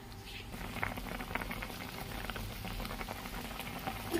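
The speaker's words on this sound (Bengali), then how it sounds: "মিষ্টি দিয়ে দেব। ভালো করে ফুটিয়ে নেব।" Sour mango chutney with added sweetener boils in a pot, giving a faint, continuous bubbling with scattered soft pops close by and no talking.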